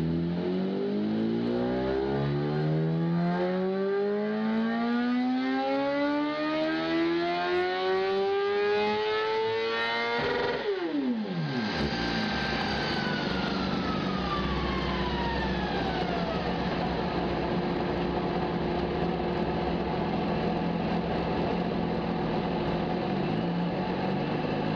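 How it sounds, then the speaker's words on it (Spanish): A 1000 cc BMW RR motorcycle being engine tested revs its exhaust steadily higher for about ten seconds, then drops sharply and falls back to a lower, rougher roar that keeps running, loud and close, with no talk. "las pruebas de motor de una BMW RR 1000 centímetros cúbicos, es una moto bastante rápida"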